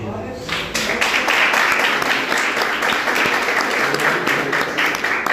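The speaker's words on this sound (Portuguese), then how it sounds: "Bate palmas hoje." A church congregation claps loudly and continuously throughout, dense and close, with a voice briefly audible at the start.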